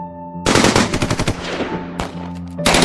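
Short, desperate machine-gun bursts ring out as a sound effect in a narrated zombie apocalypse story, loud rapid volleys separated by brief gaps and echoing sharply.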